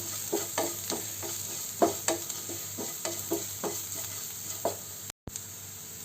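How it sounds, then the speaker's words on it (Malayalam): Chili and pepper powder masala fries in a pan for an egg chammanthi rice while a spoon stirs it, giving a steady soft sizzle broken by a series of distinct scraping knocks, close up, with no talking. "ഇത് നന്നായിട്ടൊന്ന് ഇളക്കി യോജിപ്പിച്ച് അതിൻ്റെ പച്ചമണം മാറുന്നത് വരെ ഒന്ന് ഇളക്കി കൊടുക്കണം."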